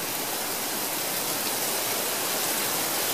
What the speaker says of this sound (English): we got a pretty decent little rain going on here